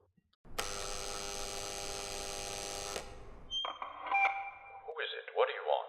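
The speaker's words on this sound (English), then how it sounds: "There's a buzzer next to the door." A door buzzer is pressed, giving a steady electric buzz for about two and a half seconds, loud and close, followed by a crackly intercom voice answering.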